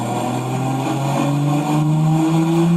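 Car engine revving hard on a dyno pull, a loud, close, sustained climb in pitch as the rpm rises steadily across the run.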